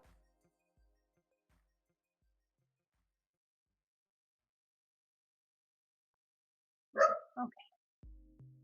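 A single dog gives a short burst of two or three barks late in an otherwise near-silent stretch, moderately close, followed by a faint low thump.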